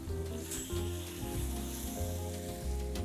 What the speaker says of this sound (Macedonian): и врз нив ќе го ставам парчето лосос. Прекрасен звук.